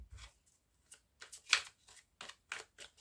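A tarot deck being cut by hand: a quiet series of short, crisp card flicks and slaps coming in an irregular rhythm, close up, with no talking.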